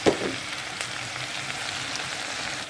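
Tomatoes, potatoes and spring onion frying together in a pan, a sharp burst of sizzle as they hit the oil, then a steady close hiss of frying.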